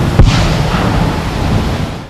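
A controlled detonation destroys a WWII aerial bomb found in woodland, a sharp blast followed by a long rumbling roar that slowly fades.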